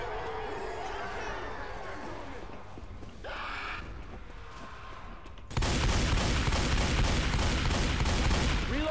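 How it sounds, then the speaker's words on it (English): Gunshots in Left 4 Dead 2 as a player shoots at cans: distant shots and clatter at first, then a loud, sustained burst of rapid gunfire filling the second half. "Sam's shooting cans because he's mad and bad."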